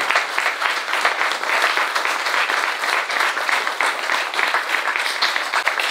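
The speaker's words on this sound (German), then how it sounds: "also mal einen herzlichen Applaus für Wiebke" Applause for Wiebke Fuchs at a public event on a self-determination law, a dense, steady round of clapping from an audience sustained throughout.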